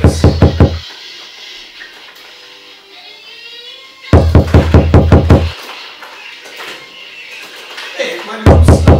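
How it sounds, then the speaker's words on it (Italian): Bursts of loud, rapid knocking come in three separate volleys, each a quick run of sharp raps, with quieter background noise and faint sounds in the pauses between them. "Sento un bussare continuo."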